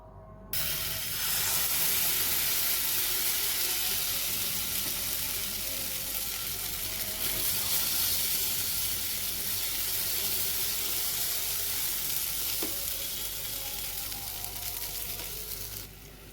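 A steady, loud sizzle of small maize-flour and radish pancakes frying in a hot nonstick pan, continuous broadband hiss lasting throughout with no talking.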